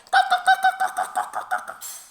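A hen clucks repeatedly in a quick, rhythmic series of short calls, close and clear, with no talking.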